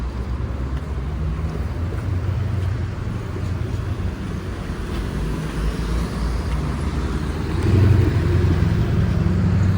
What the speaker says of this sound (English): And this car Havel GWM.